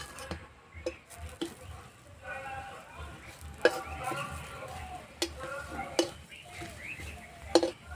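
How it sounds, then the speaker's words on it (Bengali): Eggplant slices frying in ghee in a pan: a soft, close sizzle with sharp taps and scrapes as the pieces are turned, while a person talks over it. "এই পিঠ ওপিঠ বেশ করে ভেজে নিয়েছি"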